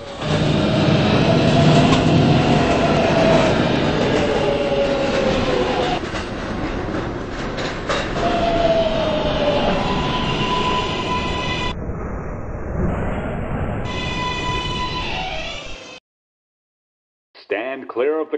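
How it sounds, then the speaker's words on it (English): A Roblox subway train rumbles past continuously with rhythmic clatter and a rising whistle-like tone, fading into brief silence, then a short high electronic chime. "There is a train."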